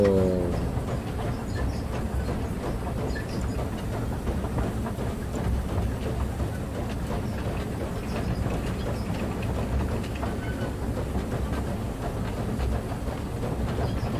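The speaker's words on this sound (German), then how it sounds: "Da sind wir in so einem Zug drin" Steady rumbling clatter of a train ride in a Wild West MMORPG, a continuous loud wheel-and-carriage drone with rhythmic clicking, heard alone without talk.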